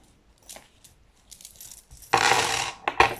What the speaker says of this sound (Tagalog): Tignan natin kung may barya tayo dito sa ating maliit na pitaka.